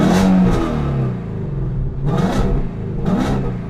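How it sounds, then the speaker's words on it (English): A 2016 Ford Mustang Shelby GT350 in neutral is revved repeatedly, its engine rising and falling in a few loud, close surges over a deep rumbling idle. "Just gonna give them a couple revs."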